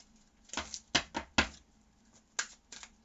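Tarot cards being shuffled by hand, a handful of quick crisp riffling and tapping bursts spaced irregularly, close and fairly quiet with no talk.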